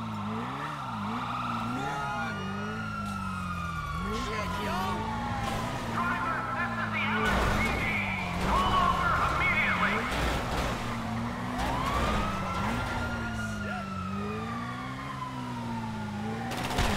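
Police car sirens wail continuously during a chase in GTA Online, rising and falling over engine rumble, with players talking over the noise.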